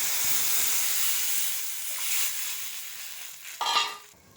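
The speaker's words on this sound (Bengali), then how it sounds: "এই ফোড়নে দিয়ে দিচ্ছি সর্ষে, মাছ ভাজা তেলের মধ্যেই দিয়ে দিলাম" Mustard seeds sizzle in hot oil left over from frying fish, a steady hissing crackle that fades somewhat, then flares in a sharp burst of spitting near the end before settling.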